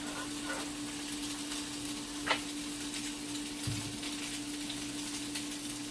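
Apple cinnamon French toast frying in a cast iron pan, a soft continuous sizzle with a steady hum beneath and a couple of faint clinks, close and quiet, no voices.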